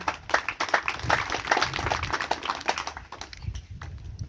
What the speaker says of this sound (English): Give a round of applause to the grade 8s again.